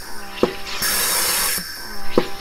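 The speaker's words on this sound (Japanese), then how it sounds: "一回ボタンを押しただけで炭酸がチュープシュート入りました。" A SodaStream Spirit One Touch carbonates a bottle of water: a steady, loud hiss of gas lasting about a second sits between a few sharp clicks from the machine. No one speaks.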